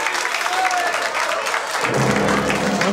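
A dense crowd of movie extras applauds a birthday cake, steady clapping filling the whole stretch with a fuller, louder swell in the second half.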